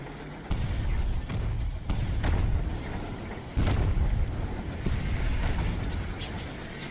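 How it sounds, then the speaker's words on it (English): The Jerusalem cannon aboard a locomotive in the game Sunless Skies booms repeatedly, heavy deep thuds landing every second or so over a low rumbling engine bed, close and forceful with no talk. "That's our Jerusalem cannon."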